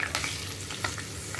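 Onions and garam masala hit hot oil in a pan, giving a soft, close sizzle with a few light stirring scrapes and clicks over a short moment.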